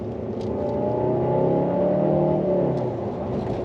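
A 2024 Mercedes-Benz CLA 200 with a 1.3-litre engine revs in sport mode, a steady droning whir that rises slightly and then settles, heard from inside the car without talking.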